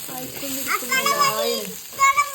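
Ivy gourd (kovakka) being stir-fried in a pan for a mezhukkupuratti, giving a steady close sizzle with stirring scrapes throughout.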